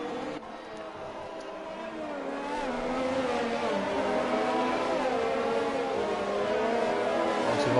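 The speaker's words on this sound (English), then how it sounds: "it is Morgan in the lead at the moment as the safety car leads them round" Race cars in a Formula-style racing video game circulate the Monaco street circuit behind a safety car, a steady layered engine drone that swells slightly and holds without a break.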